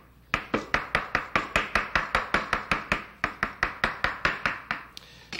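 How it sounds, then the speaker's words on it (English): Goose liver being chopped on a cutting board with a knife, a steady run of about twenty quick, even, close knife strikes with no talking. "so we just chop it up."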